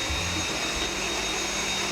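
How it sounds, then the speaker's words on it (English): A Dyson vacuum cleaner runs steadily through a tiny house, a loud continuous whirring roar with a low motor hum that holds without a break, no voices over it. "now that we're done vacuuming the entire house with this Dyson vacuum"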